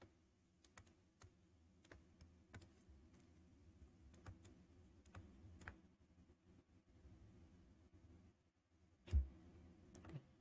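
Typing on a computer keyboard, a run of scattered, quiet key clicks at an uneven pace with short pauses and one louder tap near the end, close and alone.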